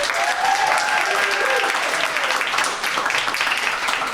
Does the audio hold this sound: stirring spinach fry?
no